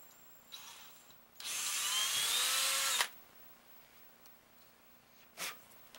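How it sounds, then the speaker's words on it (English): A power drill bores a 1/8 inch hole into a wooden clothespin, one loud high whine lasting under two seconds, close up, followed by quiet with a faint brief noise. "take out your small drill bit and you chuck in your 1/8 inch bit, bigger, and then you drill a hole into the small hole that you just drilled"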